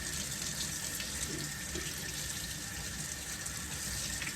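Salt pork rinsed under a running kitchen tap gives a steady, close hiss of flowing water that stays level throughout with no pauses, and no one speaks.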